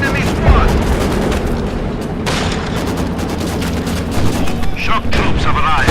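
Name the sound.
mortar and gunfire explosions in the video game Company of Heroes 2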